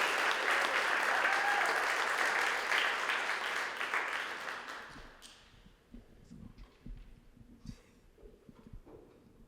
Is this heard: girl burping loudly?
no